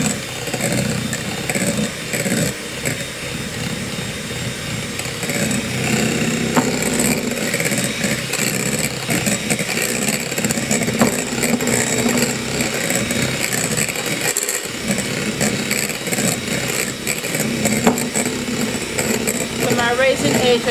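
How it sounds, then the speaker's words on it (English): A high-speed electric whisk beating Swiss roll sponge mixture, a steady loud motorised whir running throughout, with someone talking over it in a school kitchen classroom. "And I'm whisking it on a high speed."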